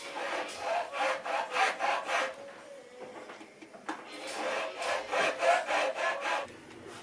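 Rhythmic rasping strokes of a file flattening the bottom of a roller nut on a Fender Stratocaster, repeated back-and-forth scrapes in two bursts separated by a brief pause, close and steady with no talking.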